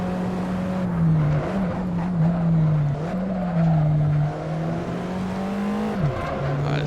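An Alfa Romeo 4C in the racing game Assetto Corsa screams through the corkscrew, a steady high engine whine dipping and rising with gear changes, loud and continuous with no talk.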